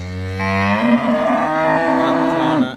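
A single long, loud cow moo, close by, rising and holding for a couple of seconds before fading, from a dairy cow that calved twenty days ago, on a farm.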